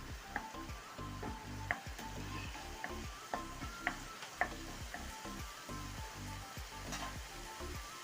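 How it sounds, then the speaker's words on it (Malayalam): Crushed onion and curry leaves are stirred into a beef roast in a hot pan. A soft, steady sizzle runs underneath while sharp scrape and tap clicks of the spoon land irregularly, with no one speaking. "ഇതൊന്ന് നല്ലവണ്ണം ഒന്ന് ഇളക്കി കൊടുക്കാം"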